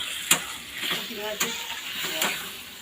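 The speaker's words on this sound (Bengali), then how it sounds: "বরবটি ভাজা" Yardlong beans fry in a pan with a soft continuous sizzle, punctuated by three or four sharp clacks of a spatula stirring against the pan, heard up close.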